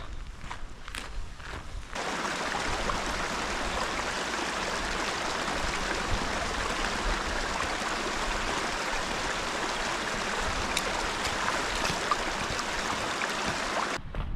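Clear water runs through a ditch full of frog spawn in the Lake District. It makes a steady, close rushing and babbling flow that holds for the whole stretch after a brief quieter start, with scuffs of footsteps at the beginning.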